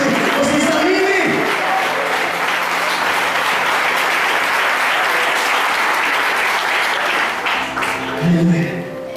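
A church congregation applauds loudly and continuously during a preaching service, with a preacher's voice speaking over the clapping.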